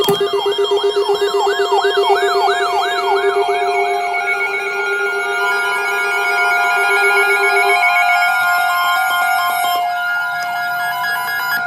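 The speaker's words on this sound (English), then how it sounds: "And there goes my phone." A phone's emergency alert for a tornado warning sounds loud and continuous, its warbling two-tone rising and falling over a steady high tone, alongside other layered alert tones, with no talk.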